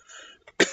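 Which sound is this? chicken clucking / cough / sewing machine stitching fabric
cough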